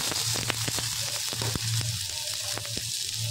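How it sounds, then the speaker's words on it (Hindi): Onions dropped into hot oil in a pan for street-style samosa chaat, a dense continuous sizzle and crackle with a few faint stirring taps, close and steady without talk. "तो अब सबसे पहले इसमें हम अनियन डालेंगे।"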